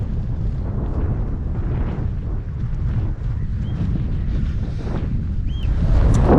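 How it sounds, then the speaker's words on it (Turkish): Heavy wind buffeting a microphone outdoors in Norway in spring, a constant loud roar with gusty surges throughout and no voices. "Sesim duyuluyor mu bilmiyorum ama çok rüzgar var."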